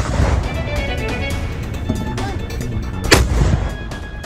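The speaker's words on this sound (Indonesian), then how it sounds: "Serangan artileri Thailand di perbatasan juga dilakukan di siang hari." Thai artillery bombarding border positions during the day booms repeatedly in the distance, with a sharper, louder blast near the end over a rumbling outdoor background.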